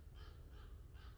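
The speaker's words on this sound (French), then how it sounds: "Cet oiseau est d'accord avec moi." A crow caws three times outdoors, hoarse rasping calls spaced evenly and heard faintly from a distance over low background rumble.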